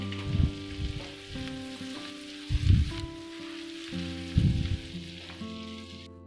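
Chopped tomato and green chilli sizzle loudly in a hot pan for an egg macaroni pasta, a steady frying hiss punctuated by several bursts of louder crackling as the pieces are stirred, with no talking.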